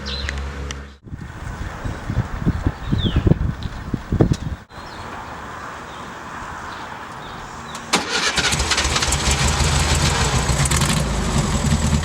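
An old car, its steering wheel loose with lots of play, cranks and its engine catches, then settles into a steady, close idle that runs alone to the end with some wind.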